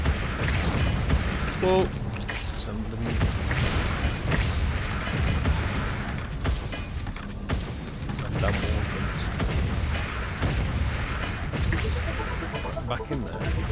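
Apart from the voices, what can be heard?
explosive shots fired in video game Wallworld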